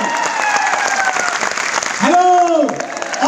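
An audience at a network marketing event breaks into applause, a dense clapping burst heard under a loud voice speaking into a microphone.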